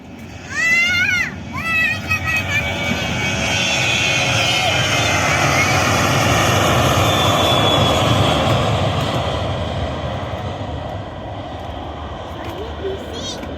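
Airplane engines roar in a sustained loud rumble during takeoff at Yogyakarta International Airport in Kulon Progo, swelling then slowly fading, with a few brief high chirps near the start.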